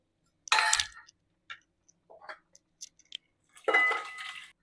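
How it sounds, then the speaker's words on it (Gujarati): Boiled vegetables for Mumbai street-style pav bhaji tumble into a pan with a soft clatter at the start, a few scattered light clinks and scrapes, then another splattering clatter near the end. "હવે આપણે જે આપણે શાકભાજી બાફી હતી એ બધી આમાં નાખી દઈશું"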